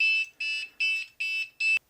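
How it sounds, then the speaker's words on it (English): A Mavic Pro drone's internal buzzer sounds five short, evenly spaced electronic beeps, close and clear, with a brief click at the end. "it's playing a Christmas tune, which is weird because it's just a buzzer in there"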